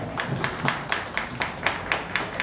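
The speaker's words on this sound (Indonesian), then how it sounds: "Tepuk tangan untuk kita semua." Audience clapping at a performing arts showcase, the IBEX 2024 event in Wonosobo, in a slow, regular rhythm of sharp distinct claps, moderately loud with light room echo.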